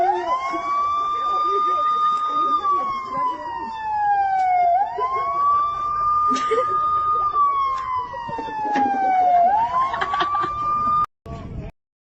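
An air raid siren wails in slow rising and falling cycles, loud and steady over several swells, with voices and background noise beneath it before it cuts off.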